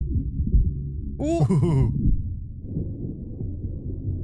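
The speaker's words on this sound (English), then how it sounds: "His heartbeat. His heart rate is going up." A low, muffled heartbeat effect from the 2008 film The Incredible Hulk thumps faintly beneath a person's brief vocal exclamations.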